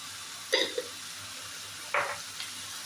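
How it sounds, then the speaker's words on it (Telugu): Mutton pieces frying in a pan with salt and turmeric for rogan josh, heard as a soft background sizzle broken by two short bursts of stirring scrapes. "ఒక 5 నిమిషాల పాటు ఫ్రై చేయాలి."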